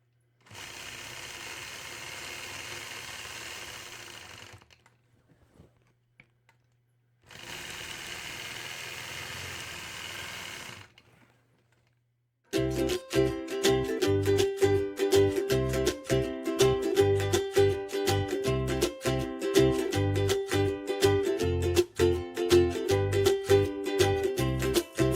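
A domestic sewing machine stitches curved quilting lines across a quilt block, whirring in two steady runs with a pause between, then giving way to a fast, rhythmic mechanical clatter that carries on unbroken.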